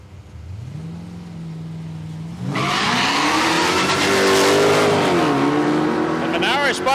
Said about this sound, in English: Monaro spun the tyres, that might hurt him.